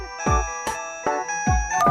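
An electronic phone ringtone plays a short repeating melody of bright tones, clear and close, with no voices.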